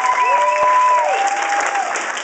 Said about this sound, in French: donnez-leur une main d'applaudissement